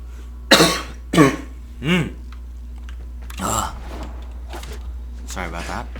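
Several loud, close coughs and throat clearings come in quick bursts over a steady background hum, with softer throat noises trailing off near the end.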